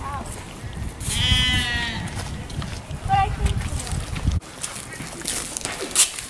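Sheep bleat in a wavering, harmonic call, with a second shorter bleat following, amid outdoor chatter and background noise at Old Sturbridge Village.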